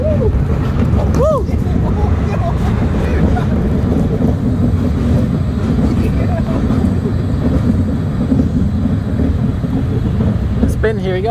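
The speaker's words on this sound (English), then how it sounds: "Roller coaster number one for you." An indoor roller coaster at a family entertainment center rumbles loudly and continuously with heavy wind buffeting the microphone throughout, while riders' voices rise through the roar.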